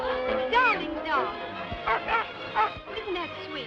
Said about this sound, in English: Darling dog.